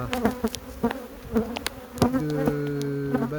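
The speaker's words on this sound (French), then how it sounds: "Elles sont vraiment prêtes à essaimer si on fait rien." Honeybees at a hive crowded and ready to swarm, buzzing up close as individual bees zip past the microphone before a steady drone settles in.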